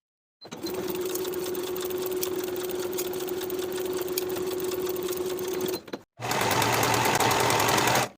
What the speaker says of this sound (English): Sew your sleeve seam with a 3/8 inch seam allowance